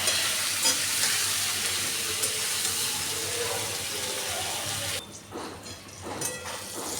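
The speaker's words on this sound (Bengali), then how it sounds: "দিয়ে আমি পটলটাকে বেশ ভালো করে ভেজে নেব" Pointed gourd pieces fry with salt and turmeric in a pan, giving a loud, dense, steady sizzle that suddenly drops to a quieter crackle with stirring near the end.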